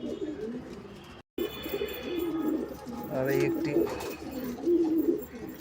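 A male Andhra-type pigeon coos in repeated low throaty phrases inside a loft, other birds chirping faintly around it, while someone speaks briefly over the cooing.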